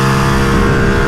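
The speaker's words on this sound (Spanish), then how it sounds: "se siente deliciosa la respuesta de esta moto. El sonido es bacano" Ducati Streetfighter V2 motorcycle engine pulling hard with a stock exhaust during a road test ride, a loud, dense, continuous roar with no pause and no talk over it.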